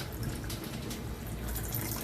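Liquid pouring from a thermos, a steady splashing trickle that runs for the whole short stretch, close by and moderately loud with no talking.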